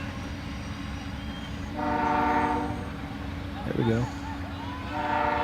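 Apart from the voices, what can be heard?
train passing with horn near soccer field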